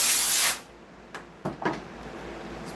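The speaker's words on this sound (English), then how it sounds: "Spray off the dust." Compressed air blasts across a guitar fretboard, loud broadband hiss for about half a second before cutting off, followed by a few faint knocks and handling sounds in a quiet room.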